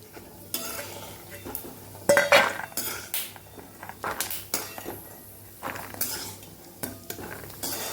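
Fried peanuts are transferred from a pan into a dish with a spoon, making uneven scraping and clinking strokes of metal on metal over a faint sizzle.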